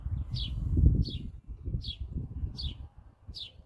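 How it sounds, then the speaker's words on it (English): A sparrow chirps five times at a steady pace, each call a short bright note over low rumbling background noise. "that sparrow's loud"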